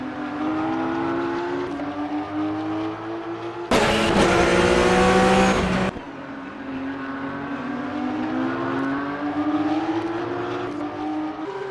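Porsche Supercup race cars at Kyalami circuit crossing the finish line, a loud sustained engine drone with rising and falling revs as cars pass nearby, a burst of harsher, louder engine roar in the middle.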